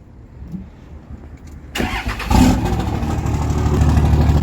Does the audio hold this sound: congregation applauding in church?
no